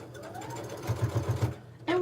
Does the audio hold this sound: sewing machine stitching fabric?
yes